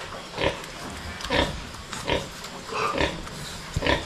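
Newborn piglets of a high-breed litter on a farm oink and snort in short grunting bursts, about one every half second to a second, moderately close over a steady background hiss.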